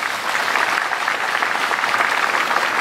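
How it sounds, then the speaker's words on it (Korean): A large audience at a Buddha's Birthday ceremony applauds the Korean president and minister, giving a dense, even roar of clapping that holds steady without breaks for about three seconds. "대통령님과 황희 장관님께 다시 한번 박수를 부탁드리겠습니다"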